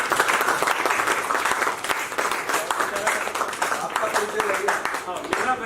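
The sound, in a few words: theatre audience applauding after a play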